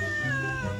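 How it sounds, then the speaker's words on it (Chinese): A cat at a campsite lets out a single drawn-out, whiny meow, close and fairly loud, with no talk over it. "猫咪"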